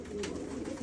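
Pigeons coo softly and repeatedly at close range, a low steady murmur of calls with no voices over them.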